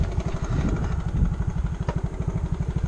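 A small scooter engine idles close by in Indonesia, a steady rapid putter with regular pulsing throbs that continue throughout.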